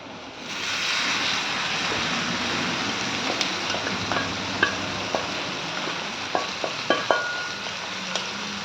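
Boiled, drained cluster bean pieces stirred and fried in a garlic-chilli tempering in a pan, with a steady sizzle throughout and sharp spoon clicks against the pan growing more frequent toward the end.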